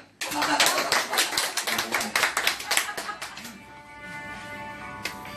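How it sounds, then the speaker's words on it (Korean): A small group of childhood friends claps in a close, lively burst of applause that gradually thins out, with voices heard alongside. "박수 부탁합니다."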